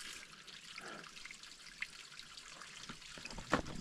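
Water trickling and dripping at a small mountain water source on Wangedigala during the dry season, faint and close, with a soft continuous burble and a few brighter splashy drips, the loudest near the end.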